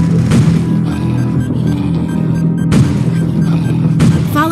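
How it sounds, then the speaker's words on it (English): Pipe bomb explosion in the mobile survival game State of Survival, heard as a few sharp booming blasts over a dense rumbling game soundtrack, loud and close. "Pipe bomb!"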